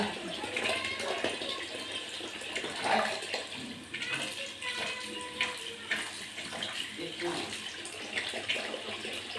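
Water runs steadily from a pipe, splashing as it pours, with occasional clinks and faint voices underneath.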